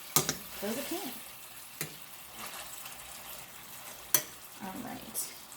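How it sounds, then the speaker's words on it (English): Quiet sizzling of chicken frying in a pan, broken by a few sharp clinks of a utensil against the pan; no one speaks. "go ahead and let them sizzle away for another about 2 to 3 minutes"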